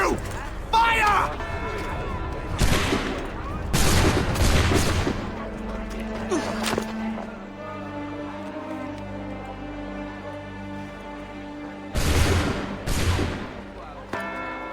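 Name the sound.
musket volley firing in Assassin's Creed 3 video game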